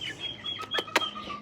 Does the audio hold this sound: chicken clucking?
yes